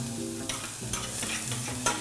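Onion browning in a pan on an induction hob, a close sizzle with several quick stirring scrapes over a steady tonal hum from the cooktop, no speech.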